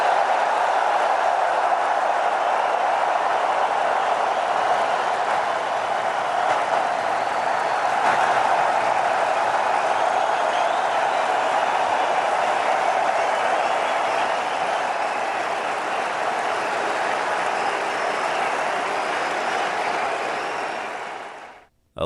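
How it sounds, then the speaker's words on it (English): Lengthy, unbroken applause from a packed arena crowd, a dense and steady roar of many hands clapping that holds evenly for about twenty seconds before cutting off abruptly. "lengthy applause there coming from this packed arena"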